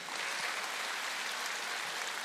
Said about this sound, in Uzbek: Bitta qarsak bo'lsin.